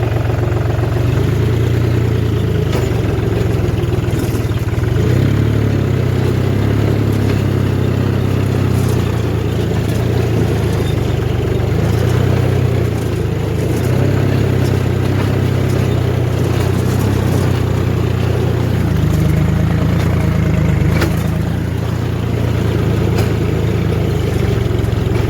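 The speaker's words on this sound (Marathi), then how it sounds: "ट्रॅक्टर खूप लोडवर चालू राहिलं आहे." A tractor fitted with a new blade runs under heavy load in a field, a loud, continuous low engine drone that holds steady throughout with no speech.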